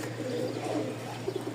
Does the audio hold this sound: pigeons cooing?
yes